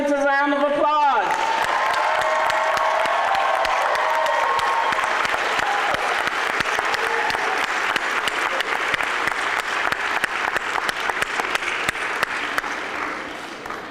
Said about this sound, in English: please stand and give our graduates a round of applause.